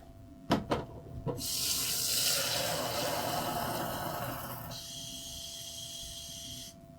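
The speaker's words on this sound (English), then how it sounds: "I'm just going to fill it up into this container and take the measurements of that" Tap water pours into a measuring container marked up to 3 litres while brewing a Black Rock Pale Ale extract kit. A few clicks come first, then a steady rushing flow that shifts to a thinner, higher hiss before stopping.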